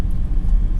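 A racing car climbs the Mount Washington auto road, its engine producing a steady, close, low rumble that holds throughout with small fluctuations in level.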